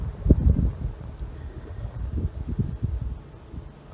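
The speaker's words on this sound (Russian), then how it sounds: "ветер дует" Low, gusty wind rumbles steadily against the microphone on a riverbank, with buffeting bursts near the start and fluctuating noise throughout.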